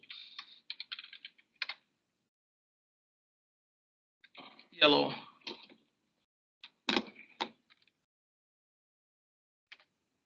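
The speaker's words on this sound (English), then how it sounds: "I would type maybe different genes" Close, quiet typing on a computer keyboard in short bursts of clustered key taps separated by pauses, with a few firmer single presses near the end.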